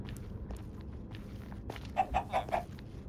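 Minecraft chicken clucking in a game, four quick, soft, evenly spaced clucks near the end, faint over light background noise and footsteps.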